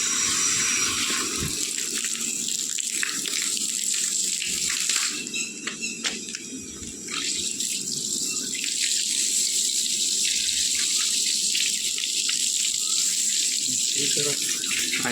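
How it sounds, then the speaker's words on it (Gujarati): Water running from a tap or hose to wet freshly applied plaster at a building site, a steady continuous rush that dips briefly midway and holds loud throughout. "પાણી છોડવાનું ચાલુ કરી દીધું છે."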